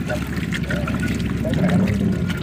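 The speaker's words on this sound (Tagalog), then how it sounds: "hugasan na natin itong ating karne" Raw meat for mung bean stew being rinsed under running water, a steady pouring, trickling wash with a continuous low rush throughout and a voice talking over it.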